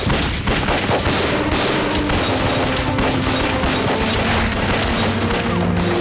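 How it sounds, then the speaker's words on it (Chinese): Gunfire in an anti-Japanese war film scene, dense rapid bursts of loud shots and booms that continue without pause, crowding together into a sustained barrage. "孙处长， 开枪！"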